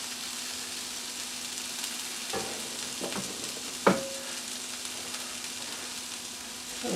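Bite-sized pieces of New York strip steak frying in a pan, a soft steady sizzle with a few scattered clicks and one sharp metallic knock, heard up close with no talking.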